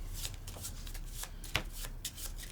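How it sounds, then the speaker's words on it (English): A deck of playing cards is shuffled during a board game, a run of quick riffling and rustling bursts close to the listener, with a few sharper snaps. "once you're done shuffling"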